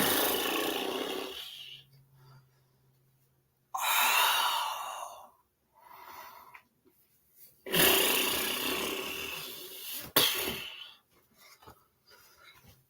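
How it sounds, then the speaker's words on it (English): Deep, slow breaths in and out during qi gong breath-work, long airy inhales and exhales close by, separated by quiet pauses and repeated several times. "I'm going to breathe in."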